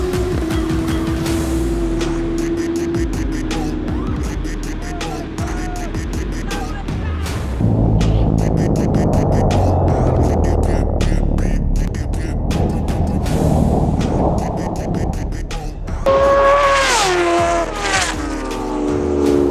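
Sport motorcycles, a Kawasaki ZX14 and Ninja H2R, roar and rev hard as they launch in a half-mile race, a loud high-pitched rising whine with screeching rear-tire spin, then fading into the distance.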